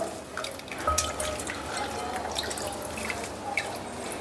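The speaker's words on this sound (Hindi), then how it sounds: "हमें इसका पानी अच्छे से निकाल देना है, जिसके लिए हमें एक छन्नी चाहिए इस तरह का, और इसी में हम इसे छान के रखेंगे इस तरह से" Water drains and drips from washed cabbage sitting in a kitchen strainer, a soft steady trickle with scattered small drips, close and fairly quiet.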